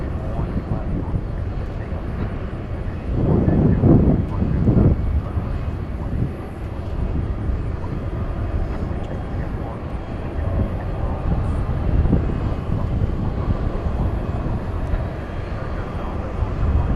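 An airliner takes off at a busy airport, its jet engines a steady heavy roar heard from a distance that swells briefly and then holds, while people talk over it.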